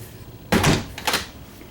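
A pantry door in a 2022 Wildwood Lodge 40FDEN RV opens and shuts nearby, two quick wooden bumps about half a second apart over faint room hiss.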